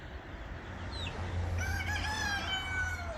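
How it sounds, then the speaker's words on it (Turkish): A Black Modet rooster chases an American rooster through the poultry run, with a loud, clear crow rising partway through over low clucking and scuffling, close by and with no voices. "Bizim Black Modet horoz Amerikanlı horozumuzu kovalıyor."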